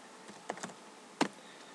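A few keystrokes land on a computer keyboard as search terms are typed. There are soft, sparse clicks, with a small cluster near the middle and one sharper tap later, all quiet against a faint room hiss.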